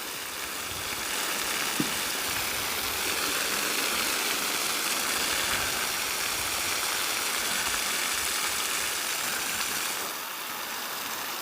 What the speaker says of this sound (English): I'm just going to give this a quick water while we're here.